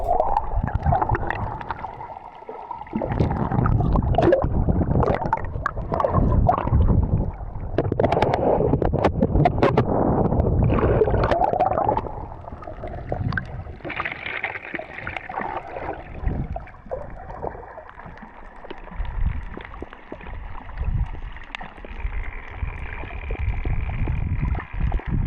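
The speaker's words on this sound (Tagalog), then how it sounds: "So yun nga, masyado talaga malakas yung alon." Rough sea at Coral Garden in Coron, Palawan, a windy, choppy stretch of water heard from a boat, with irregular sloshing and splashing and wind buffeting the microphone.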